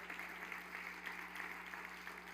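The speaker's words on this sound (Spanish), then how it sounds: "darle un aplauso a Jesús" A church congregation at an Easter Sunday service applauds, a soft, continuous rush of many hands clapping from across the room, evenly sustained with a low hum underneath.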